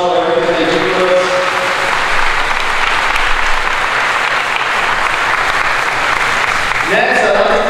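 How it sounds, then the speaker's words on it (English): A large audience at a high school signing day gives the staff a big round of applause, loud and steady dense clapping filling the space for several seconds, with a voice coming in near the end. "So if you can give them all a big round of applause for everything they do for us."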